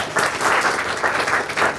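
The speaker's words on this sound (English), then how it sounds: "Big round of applause." Audience clapping for a startup pitch presenter at an investor event, a short steady patter of applause from a moderate crowd lasting under two seconds.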